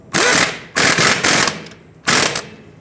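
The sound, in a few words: ratchet tightening strut knuckle bolt on Hyundai Accent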